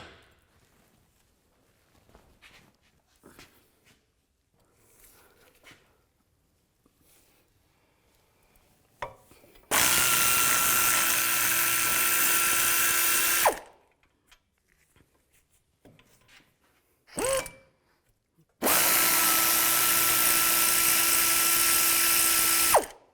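A power tool drives out two brake caliper bracket bolts on a 2015-2020 Cadillac Escalade front brake job, two loud sustained whirring bursts of several seconds each, with faint workshop clinks and handling noises between them, no speech.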